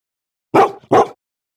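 Two quick bark-like yelps close together, sounding like a person's voice imitating a dog, with silence before and after.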